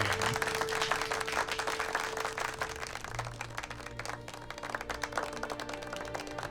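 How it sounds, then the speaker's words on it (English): Steady crowd applause from the video game Mass Effect Andromeda, a dense patter of many hands clapping continuously, with a faint sustained tone underneath. "All the clapping."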